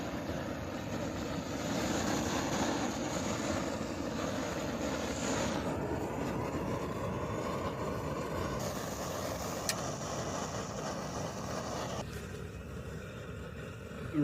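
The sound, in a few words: wind blowing at highway camp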